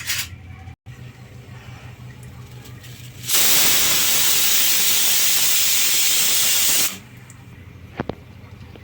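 A pressure cooker of lentils on a stove lets off a loud, steady steam hiss lasting several seconds, rising abruptly out of quiet kitchen background and cutting off just as suddenly.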